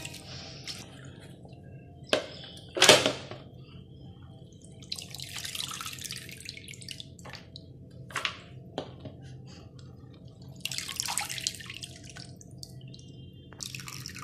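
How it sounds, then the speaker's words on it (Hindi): Sliced potatoes are rinsed in a bowl of water in a home kitchen, giving quiet, intermittent splashes, drips and wet squishes with pauses between, and no voices. "अब हम इनको अच्छे से धोकर निकाल लेते हैं।"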